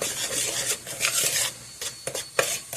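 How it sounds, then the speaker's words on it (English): A spoon stirs apple fritter batter in a bowl, giving a run of close scraping and rubbing strokes against the bowl with short pauses and a few sharper clinks near the end, with no talk. "Now let's take a spoon, stir this around really well."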